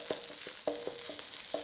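Red curry paste sizzling in plenty of hot oil in a pan. Soft, quiet frying with small crackles and stirring taps spaced irregularly over a low hiss.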